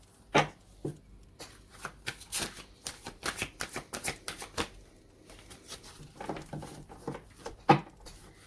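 Romance Angels oracle cards being shuffled by hand, a string of crisp riffling flutters and soft taps close by, some louder bursts among quieter ones, with no talking.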